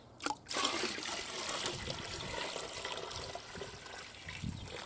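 Water pouring steadily into a container of bark tanning solution holding beaver tails, a continuous close trickle and splash after a brief clunk at the start.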